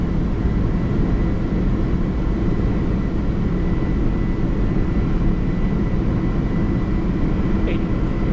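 Boeing 747-400 engines at takeoff thrust, a steady loud low roar heard from inside the cockpit, constant and broadband throughout with a brief faint tone near the end.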